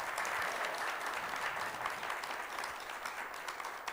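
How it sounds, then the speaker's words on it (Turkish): Steady, unbroken applause from a studio audience, a dense even patter of many hands held at a constant level from start to finish without voices. "Sizler alkışlıyorsunuz."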